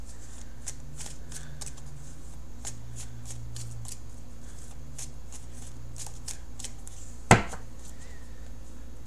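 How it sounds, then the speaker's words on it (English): A tarot deck is cut and shuffled by hand, producing soft, rapid card riffles and taps over a faint steady hum. Near the end comes one sharp, louder snap of the cards, and nobody speaks. "Okay, cutting the cards."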